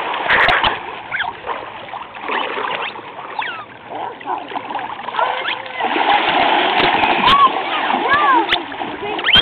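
Water splashes and sloshes as a dog swims and paddles through it, with intermittent bird chirps and occasional voices in the background.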